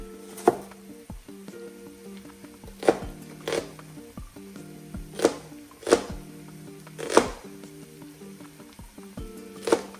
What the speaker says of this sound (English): I'm gonna be cutting up the onions